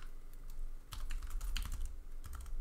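Fast bursts of keystrokes on a computer keyboard while a fastboot flashing command for a Google Pixel phone is entered, clicking in quick irregular clusters close to the mic.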